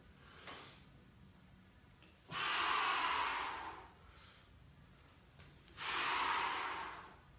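Two long, loud bursts of heavy, breathy exhalation during a low-intensity mobility and light cardio workout with squats, each lasting about a second and a half, separated by quieter pauses, with no talking.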